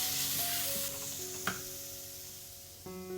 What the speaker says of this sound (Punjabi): ਇਹ ਮਸਾਲਿਆਂ ਨੂੰ ਗੈਸ ਦੀ ਸਿਮ ਫਲੇਮ ਤੇ ਆਪਾਂ ਥੋੜਾ ਜਿਹਾ ਭੁੰਨ ਲਵਾਂਗੇ